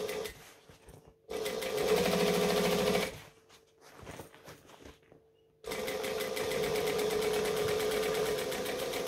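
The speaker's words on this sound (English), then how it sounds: "I'm going to top stitch this bit and it's going to be a lot of fabric" A sewing machine top stitches through a thick bundle of fabric at a decorative stitch length, running in two loud steady bursts separated by a pause with quieter handling noises.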